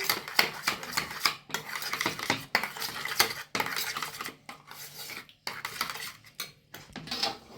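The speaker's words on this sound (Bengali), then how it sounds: "সুন্দর টক দইটা সুন্দর করে ফেটে নিলাম" Strained sour curd is beaten in a tiffin carrier for a sweet gandharaj yogurt, with close, continuous scraping and clinking of the utensil against the container in quick, uneven strokes and short pauses, with no talking.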